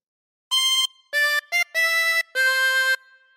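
The Pop Goes the Weasel phrase played on a tremolo harmonica: five bright, reedy notes of varying length with a slight waver, close and solo, fading out at the end.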